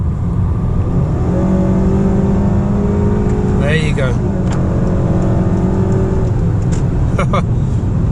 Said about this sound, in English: This car pulls nice.